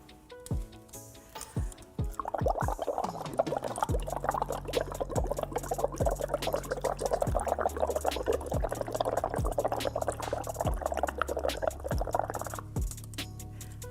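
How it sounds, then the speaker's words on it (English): Air is blown through a straw into a glass of water, making a busy run of gurgling bubbles that lasts about ten seconds, with scattered clicks and small splashes before and after. "what happens when you simply blow a little bit of air into the water?"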